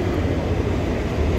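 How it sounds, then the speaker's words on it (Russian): An electric commuter train passes without stopping, a steady low rumbling roar that holds constant and fairly close through the short stretch. "это какая-то электричка без остановки была"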